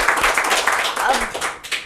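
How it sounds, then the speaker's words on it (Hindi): A crowd at a Rajasthan Parishad event honouring Sri Shantilal Barmecha claps loudly and continuously, a dense burst of applause filling the short moment. "बहुत बहुत तालियां।"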